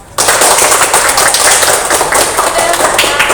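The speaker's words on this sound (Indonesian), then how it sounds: "Tepuk tangan" A group of students clapping together in a classroom counseling session, dense rapid hand claps starting sharply and continuing loud and close for about three seconds.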